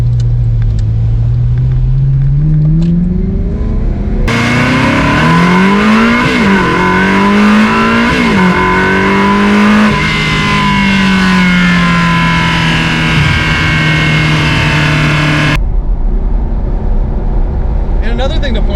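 Ferrari 360 Modena from 2003 with its engine revving in a few quick rising blips, loud and close, a sustained high-pitched wail building and falling, with talk before and after.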